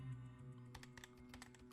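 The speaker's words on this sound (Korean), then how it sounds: "키보드에서 손 떼지 말고 계속 쳐요." Fingers type on a computer keyboard in a quick irregular patter of soft clicks, close and faint over a low steady hum.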